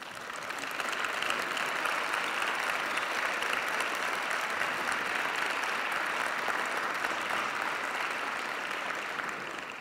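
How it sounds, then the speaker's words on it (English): An audience at the re:publica 2010 BOBs Awards applauds the jury in a long, even wash of clapping from a large crowd, steady and unbroken throughout, heard from a little distance with no voices on top. "Let's give a round of applause to our jury for the Bob's Awards"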